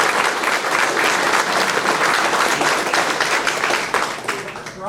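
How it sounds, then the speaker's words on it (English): A town hall crowd at a community center breaks into loud, dense applause, steady sustained clapping from many hands that holds for several seconds before tapering slightly near the end. "He deserves a round of applause."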